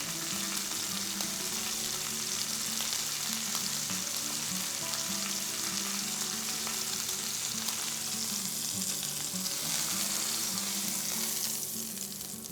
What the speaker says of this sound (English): As you can see, it has a nice sear on it